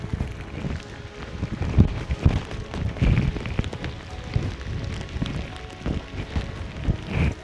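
Heavy monsoon rain in Konkan pours as a dense, continuous hiss with gusty wind buffeting the microphone and scattered heavier thumps of drops; near and steady, with no talking.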